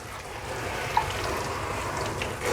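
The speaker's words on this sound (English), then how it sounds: "take as many of these trays as possible, rinse them all off at the same time" Running water rinses microgreen growing trays, a steady close wash of splashing and trickling with one brief knock partway through.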